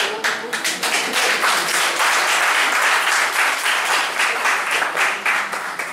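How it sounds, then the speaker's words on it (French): Audience applause at a talk on Togo's history, a burst of brisk clapping from a crowd, loud and dense with slightly rhythmic surges, continuing for several seconds. "applaudez 3 fois"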